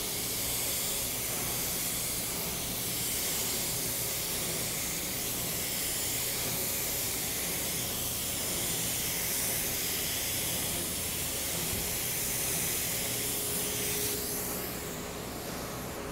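A 3M PPS Performance spray gun with a 1.4 fluid tip sprays primer onto a car, a loud continuous airy hiss that holds steady for the whole stretch with no talk.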